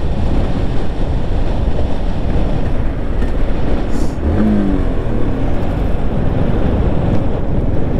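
Yamaha MT-15 150cc motorcycle accelerating hard in fifth gear, a steady loud engine roar buried under heavy wind rush throughout, with no voices.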